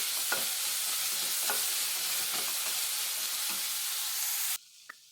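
Onions and garlic, the garlic still in its peel, sauté in a pan with a bright, steady sizzle and the scrape of stirring, close and alone, before it cuts off abruptly near the end.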